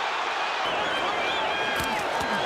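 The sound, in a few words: boxing crowd cheering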